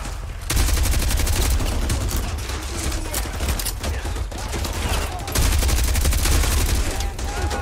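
Sustained rapid gunfire in the Call of Duty Modern Warfare 2 video game, loud continuous rattling volleys with brief dips, with a voice talking in places.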